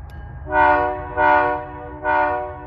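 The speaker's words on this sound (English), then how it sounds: "But the horn's about to go." Three long blasts of a multi-tone train horn, evenly spaced and fairly loud, over a low rumble.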